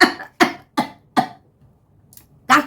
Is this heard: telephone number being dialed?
no